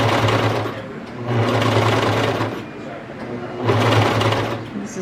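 Sewing machine stitching the hem of a kid's raglan t-shirt runs in two loud, close bursts of steady whirring with a pause between, and someone talks over the motor.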